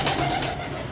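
Pigeons coo in a short, low, throaty burst at close range, a brief murmuring call over soft background noise.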